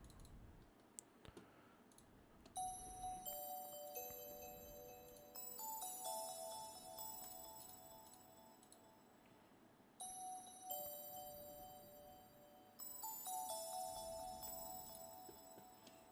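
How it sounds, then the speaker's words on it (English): Bright bell-like tones ring out in a repeating pattern, stacked in sustained chimes over a soft rhythmic clicking beat in a pluggnb beat, with no talking. "And next we got the bells."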